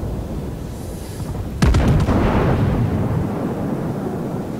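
Battleship main guns fire in World of Warships, a Japanese battleship's six-gun salvo aimed at an enemy Wyoming: a single loud booming blast partway in, with a crackling rumble trailing off after, no talk.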